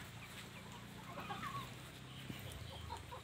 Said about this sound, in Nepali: यो कुखुराको माउ